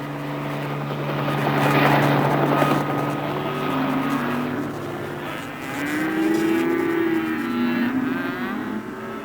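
A helicopter's steady rotor drone and engine hum fill the whole stretch, fairly loud and continuous, swelling slightly at times, with no voices.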